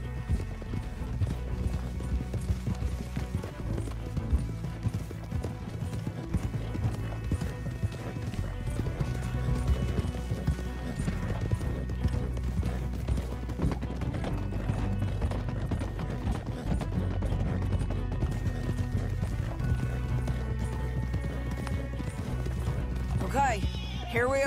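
Horses clip-clopping and running in Red Dead Redemption 2, hooves beating in a steady rhythm with an occasional whinny, set against a low rumbling game soundscape and some mechanical noise.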